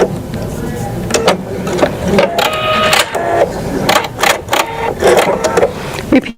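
A sewing machine stitching a zipper makes repeated short bursts of rapid mechanical clatter with brief pauses between runs, close by, with some soft handling noises in the gaps.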